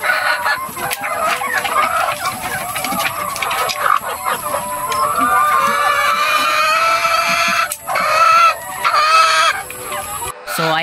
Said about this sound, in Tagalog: Bubuksan natin tong ating poultry house para magpatuka ng ating mga alagang RTL.